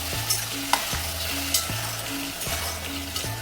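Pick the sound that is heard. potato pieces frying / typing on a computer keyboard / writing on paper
potato pieces frying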